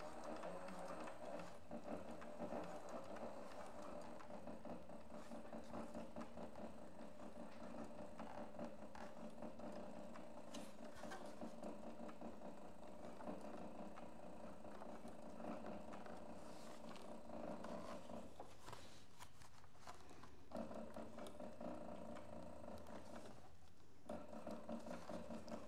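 A sewing machine stitching thick leather seams on a crossbody handbag, a continuous mechanical whir and clatter that runs steadily at close range, with brief changes in the drive near the end.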